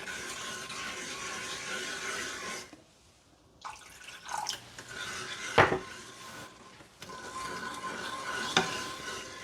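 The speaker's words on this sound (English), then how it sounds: "Now I'm going to add the water. Some water. Give it a nice stir." Water being stirred into chicken wing sauce with onion in a pot, a spoon scraping and clinking against the metal, with splashy stirring interrupted by a brief pause and a few sharp knocks.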